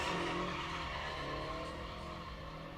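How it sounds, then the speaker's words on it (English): A Scion FR-S doing controlled drifting donuts at a drift pit test and tune, a loud, sustained engine roar with tire squeal that stays steady and eases slightly toward the end. "Nice controlled donuts out of the Scion FRS, not a BRZ."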